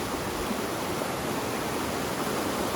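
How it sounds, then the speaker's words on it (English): A river rushes steadily just a few steps from a tent in the Great Smoky Mountains, a close, dense and continuous broadband roar of flowing water with no talk over it. "This is the river that's just a few steps down away from where my tent is."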